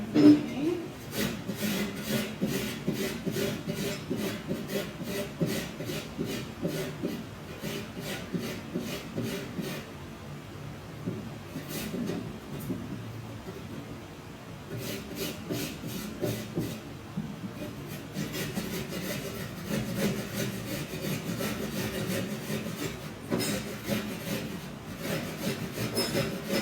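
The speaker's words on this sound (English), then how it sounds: "And what we want to do with this is we want to grate it." Fresh ginger root grated on a hand grater for red curry, a steady run of rapid rasping scrapes at close range with a brief pause midway, no talking.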